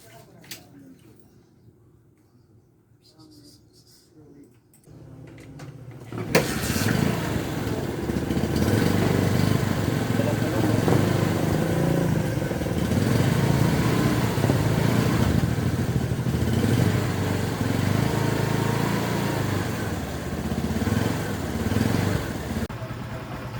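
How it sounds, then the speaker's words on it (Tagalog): A Honda Supremo TMX motorcycle engine, freshly changed oil, starts up after a quiet stretch and settles into a steady, close, even idle that runs on continuously. "Maganda na yung tunog. So testingin ko na guys yung motor ko."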